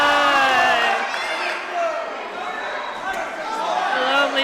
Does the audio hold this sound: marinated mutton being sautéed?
no